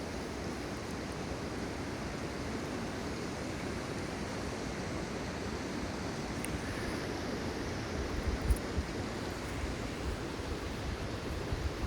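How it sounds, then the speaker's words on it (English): A small waterfall at Paradise on Mount Rainier rushes in a steady, broad, hissing roar, constant and fairly close, with no voices over it. "There's a little bitty mini waterfall."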